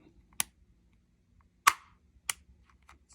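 An HK USP pistol's safety lever snaps into its detent: a few sharp, close, isolated metallic clicks spaced apart, with one louder click in the middle and quiet between them.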